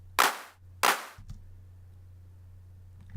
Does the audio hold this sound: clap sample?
yes